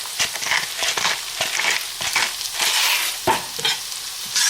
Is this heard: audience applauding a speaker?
no